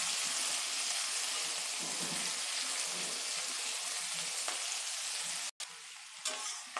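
Onions with dry red chillies and chana dal frying in oil in a pan give a steady, close hiss of sizzling throughout, with a brief dropout near the end before the frying resumes.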